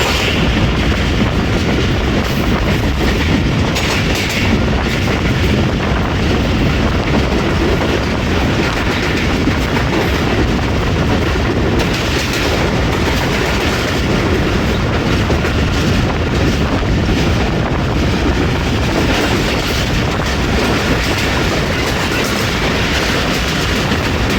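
The Jaffar Express roars through Mankiyala railway station in a continuous loud rush of wheels and rattling carriages that never lets up across the whole stretch.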